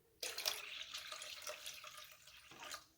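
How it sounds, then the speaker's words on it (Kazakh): Water poured into room-temperature 6% milk for pancake batter, a short quiet splashing trickle that starts abruptly and tapers off after a few seconds. "су құямыз."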